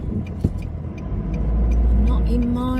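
A car drives along the road with a low, steady engine and road rumble that grows slightly louder as it picks up pace. Voices and small cabin noises sit above it.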